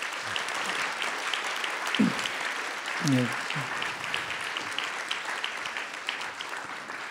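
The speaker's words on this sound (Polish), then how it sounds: "Bardzo proszę o klaski dla Rafała." Audience applause for actor Rafał Szumera after his role as officer Aue from Jonathan Littell's The Kindly Ones at a Sztuka Myślenia event: steady broadband clapping fills the whole stretch, with brief voices breaking through now and then.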